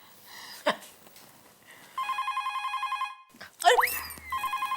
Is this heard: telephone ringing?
yes